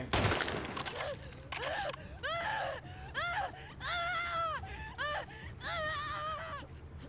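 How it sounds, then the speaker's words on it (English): Repeated anguished screams from characters in The Last of Us Part II, a series of wavering, drawn-out cries in close succession over a low rumbling game backdrop. "I've actually heard that scream before."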